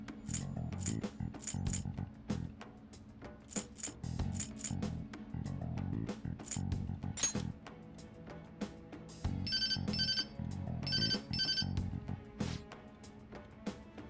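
A phone ringtone chimes in repeated bright bursts over sparse piano-like game music in Persona 5 Royal, ringing several times in a regular pattern at moderate volume with no talking.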